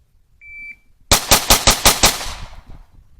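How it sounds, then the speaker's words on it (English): Shot timer beep followed by six rapid pistol shots fired from low ready at 5 yards on an FBI qualification drill, loud sharp reports in quick even rhythm with a ringing decay. "5 yards from low ready, fire 6 rounds"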